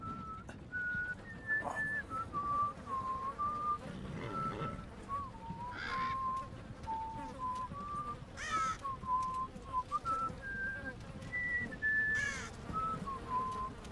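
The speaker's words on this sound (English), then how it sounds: "damn it, he's whistling off key." A man whistles a wandering, off-key tune of short held notes, steady and fairly clear over a quiet background, in the video game Game of Thrones: A Telltale Games Series.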